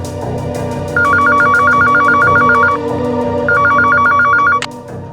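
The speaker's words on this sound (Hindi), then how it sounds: "और अब फोन किया है लैंडलाइन से।" A landline telephone rings with two loud bursts of rapid electronic trilling separated by a short pause, close and clear over a low background hum, with no talking.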